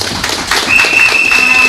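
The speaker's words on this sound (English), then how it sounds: "Give them a round of applause." An audience at a political meeting in Sangre Grande, Trinidad and Tobago, breaks into dense, steady applause, loud and close, sustained without pause with a faint tone running through it.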